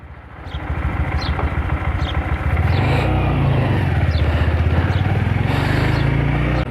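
A motorcycle engine while riding, a steady loud drone that rises and holds after a brief quieter start, with rhythmic pulsing throughout and no one speaking.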